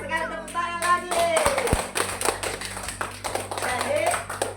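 A school class clapping hands in a classroom, a fast rattle of many claps with children's voices and chatter mixed in, fairly close and lively.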